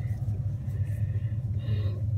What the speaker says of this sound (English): because I'm in my car.